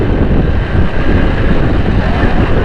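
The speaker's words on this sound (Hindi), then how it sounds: "ठंडी हवाएं चल रही है" Cold wind rushes past during a bike ride, a loud, steady roar of broadband buffeting with no break.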